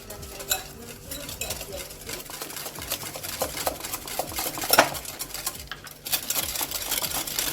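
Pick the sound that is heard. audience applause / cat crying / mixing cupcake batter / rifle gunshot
mixing cupcake batter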